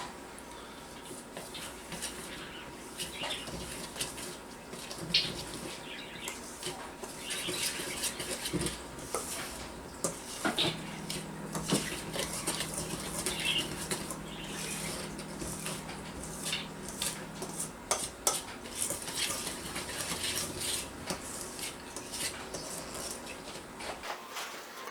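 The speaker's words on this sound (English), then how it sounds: "I like using a whisk to mix all the dry ingredients up together" A whisk mixes the dry ingredients for keto Italian bread in a bowl, making soft, continuous scraping and light rattling close by over about twenty-five seconds, with a few faint knocks and no speech.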